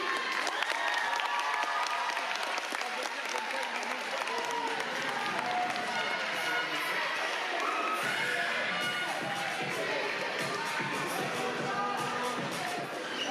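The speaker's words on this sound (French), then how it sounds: "On va vous demander un tonnerre d'applaudissements pour lui." A crowd applauds and cheers for a high school contestant at a speaking competition final, sustained loud clapping with whoops and shouts, and voices mixed in.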